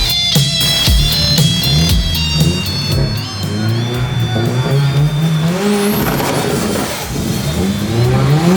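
A car skids and drifts with loud, continuous tire squeal and rising, revving engine notes, the screech sweeping up and down over a steady roar throughout.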